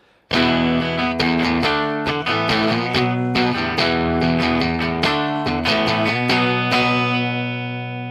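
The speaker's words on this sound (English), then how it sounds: "So this guitar into the clean channel of a dual rectifier sounds" A Gibson ES Artist electric guitar from 1980 plays a sequence of chords through the clean channel of a Dual Rectifier amplifier, strummed loudly and close, ringing out at the end, with no talking.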